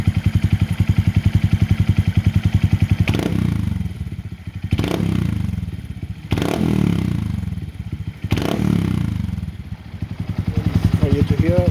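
Close and loud, a 2022 Honda Monkey fitted with a Yoshimura RS3 exhaust burbles at idle. Four sharp throttle blips each rise into a raspy rev and then fall back to the steady pulsing idle.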